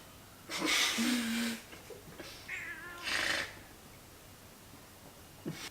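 An angry cat lets out several loud, harsh meows in quick bursts, drawn-out and strained with wheezy, growling edges, separated by short quiet gaps.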